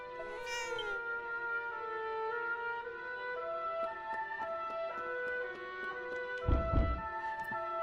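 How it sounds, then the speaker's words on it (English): A cat meows in the Dragon Quest 7 role-playing game, one drawn-out, rising mew near the start over a steady layer of melodic game music, followed by a soft low thump later on. "Ooh, a cat."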